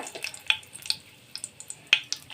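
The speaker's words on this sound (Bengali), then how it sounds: "ফোড়ন দিয়ে দিচ্ছি আমি দুটো তেজপাতা" Two bay leaves tempered in hot oil in a wok crackle quietly, with scattered sharp pops spaced irregularly over a faint, low sizzle.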